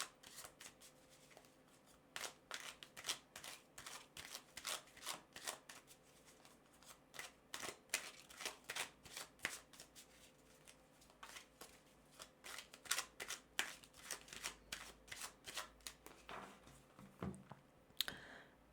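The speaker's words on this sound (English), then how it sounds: "let's go ahead and, first of all, shuffle this deck several times" Rapid, crisp riffling and flicking of a tarot deck repeats in quick bursts, close up and fairly quiet, with no talking.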